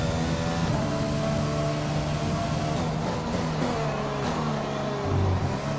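Formula 1 car engine in the F1 2020 racing game at the Dutch track, a steady harmonic drone with gliding pitch changes as it shifts and eases off through corners, loud and continuous with no talk.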